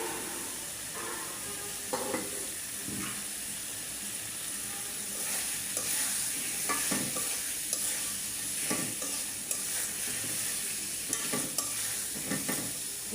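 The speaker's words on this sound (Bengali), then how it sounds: "এখন মাছগুলো দিয়ে দিই।" Salted hilsa fish fries in a spice paste with green chilies, giving a steady close sizzle broken by intermittent scrapes and clacks of stirring in the pan.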